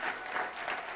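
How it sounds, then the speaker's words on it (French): A church audience applauds, a brief dense patter of many hands clapping at moderate distance, steady for the whole second with no distinct voices. "On les applaudit très fort."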